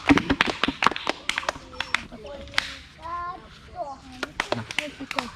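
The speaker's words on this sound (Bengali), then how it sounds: "হাততালি দাও।" Children clapping their hands in quick bursts of sharp claps, close by, mixed with children's voices talking between the claps.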